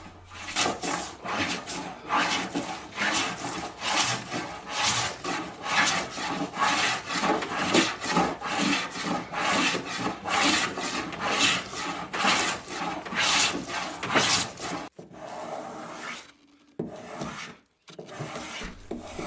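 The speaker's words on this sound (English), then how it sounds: "The spoke shave does such a good job that it's only a quick run with the sandpaper after I've finished with the spoke shave" A spokeshave shaving and rasping along the live edge of a wooden bar top, repeated close strokes in a steady rhythm for about fifteen seconds before the scraping stops with a few brief pauses.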